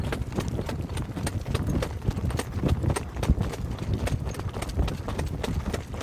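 Horse hooves trotting on footing in a training stable, a brisk steady clip-clop rhythm close by and fairly loud, with no talk over it.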